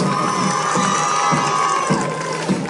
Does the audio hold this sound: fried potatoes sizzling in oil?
no